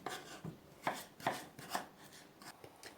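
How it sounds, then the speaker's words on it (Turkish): A knife chops potatoes into half-moons on a cutting board, several sharp cuts in an uneven rhythm, close and clear with no talking. "Çok ince olmasın, yumuşak kalsın diye çok ince olmadan yarım ay şeklinde doğruyorum patateslerimi"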